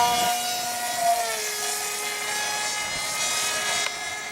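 An RC model aircraft propeller spins up for takeoff into the wind, a steady high-pitched motor drone whose tone dips and settles, close and continuous with no talk.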